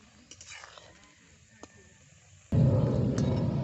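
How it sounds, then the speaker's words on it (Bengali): Jaggery sticks (gur kathi) deep-fry in oil over low heat: after a quiet stretch with faint clinks, a dense, steady sizzle bursts in loudly and keeps going. "হালকা আঁচে বেশ অনেকক্ষণ সময় ধরেই এইগুলোকে ভেজে নেব"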